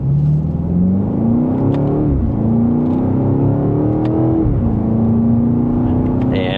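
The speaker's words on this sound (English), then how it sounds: "let's do another slight acceleration from first gear here" A 2026 BMW X5M Competition accelerates from first gear, its engine note climbing loud and steady through two upshifts with brief dips between, a continuous strong exhaust drone throughout.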